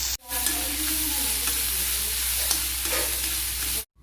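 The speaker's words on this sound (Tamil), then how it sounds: "நல்லா ஆனியன்ஸ் டிரான்ஸ்பரண்ட் ஆகிற வரைக்கும் வதக்கி எடுத்துக்கணும்" Onion, green chillies, curry leaves and coriander sauté in a pan with a loud, continuous close-up sizzle and faint stirring scrapes, and nobody talks.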